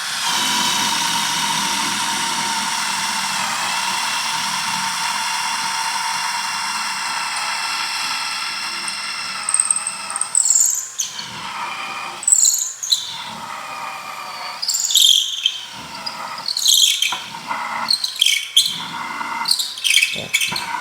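A cordless screwdriver tightens a screw at speed setting 2, giving a steady high whine for about ten seconds, then broken, uneven bursts and clicks as the bit slips, close up.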